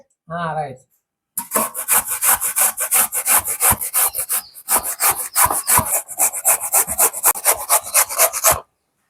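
Rhythmic rasping scrapes of green mango being grated, steady strokes repeating closely, with a brief short voice at the start before the scraping begins.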